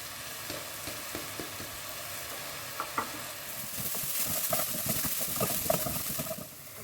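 Garlic and a cardamom pod frying together for a South Sudanese village dry fish soup, a steady close sizzle with soft stirring scrapes that grows a little louder midway and then eases.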